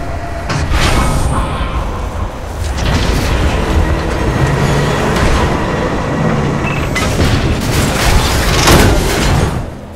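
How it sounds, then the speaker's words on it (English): A heavy cargo tram in a video game rumbles in loud and continuous with booming mechanical clanks, rattling and bursts of grinding noise throughout, surging near the end as it docks. "Heavy cargo tram is docked and ready."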